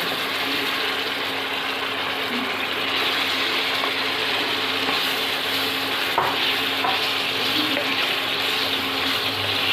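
Paneer frying in masala with oil in a pan: a steady, close sizzle that holds at an even level, with faint scraping from stirring and no talking.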